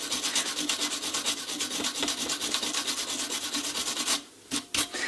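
Grooves of a NuTone Model 2057/2058 intercom part are scrubbed with a brush, making rapid rhythmic rasping strokes, close and fairly loud, that stop briefly near the end before two short final strokes.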